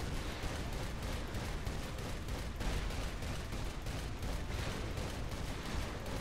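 Sustained gunfire from the video game Saints Row 4 in an alien fight, a dense, continuous barrage of rapid shots at a steady moderate level with no talking.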